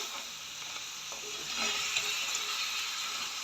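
Crab curry ingredients sauté and sizzle in a pan while being stirred, a steady close frying hiss with soft scraping of the spoon throughout, no voices.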